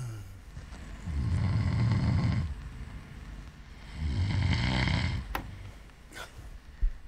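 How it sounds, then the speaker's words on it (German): A person in a mountain hut dormitory snores nearby: two long, rough, low breaths a few seconds apart, with faint rustling and a small knock between them, no speech. "Ich habe gehört, dass du geschnarcht hast."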